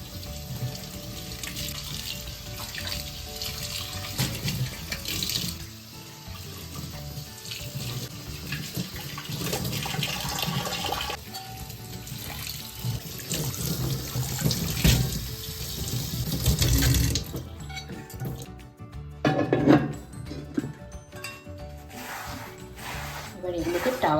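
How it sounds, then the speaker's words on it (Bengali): Tap water runs into a sink while new kitchen utensils are rinsed, a steady close hiss with clinks and splashes, broken by a brief lull before the flow surges again. "এবার ভালো করে জলে ধুয়ে নেব।"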